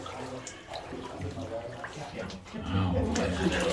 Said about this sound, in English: We're disturbing the water, so now I can't see the floor